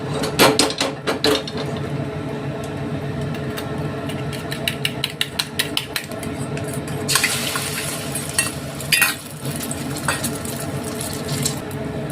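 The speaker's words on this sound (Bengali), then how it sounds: "ডিমের অমলেটগুলো ভেজে নেব।" Egg omelettes fry in oil in a pan in a rustic village kitchen, a steady sizzling hiss with scattered metallic utensil clinks and scraping, brighter and louder toward the end.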